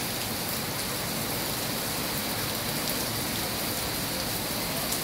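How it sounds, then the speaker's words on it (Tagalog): Steady, dense heavy rain pouring down, a continuous loud hiss of drops hitting surfaces with no pauses and no voices. "Lakas ng ulan, no?"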